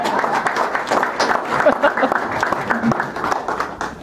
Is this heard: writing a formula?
no